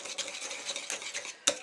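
A quick stir of cloud bread batter in a bowl, with a handful of short scraping strokes in an uneven rhythm and a sharper clink of the utensil against the bowl near the end, close and fairly quiet.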